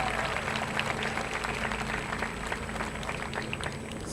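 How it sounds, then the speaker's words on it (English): Applause from a high school class of 2021 celebration crowd after speeches, a continuous, fairly soft patter of many hands clapping, heard at a distance with no talking over it. "Let's get another round of applause for those."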